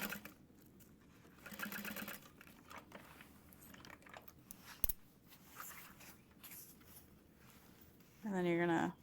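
A sewing machine basting a tote bag seam at about an eighth of an inch, quietly whirring in short bursts with a brief louder run near the end, with light handling noises and occasional talk.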